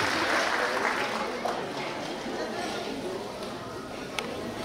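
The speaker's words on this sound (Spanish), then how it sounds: "para quien pida un fuerte y caluroso aplauso" Guests clap at a wedding reception meal for a newly baptized child, a moderate, steady round of applause mixed with crowd chatter and talking in the room.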